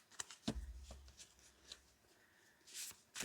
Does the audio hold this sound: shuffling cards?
yes